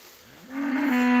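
A single goat lets out one rising, drawn-out bellow that swells from quiet to loud and holds a steady tone, close by on a rural farm where the goats come in to sleep on a bed of leaves.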